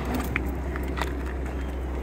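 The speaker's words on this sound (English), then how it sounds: "a lovely V6 purring away. Such a cracking engine, that." An Audi A5 S-Line Quattro V6 engine idles steadily with a low, even rumble, close by, with a few faint clicks and crackles over the top.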